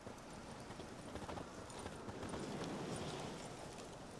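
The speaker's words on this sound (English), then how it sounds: "Whoa there, Roach" Horse hooves clip-clop at a steady walking rhythm in the video game The Witcher 3, soft and fairly quiet, with no talk over them.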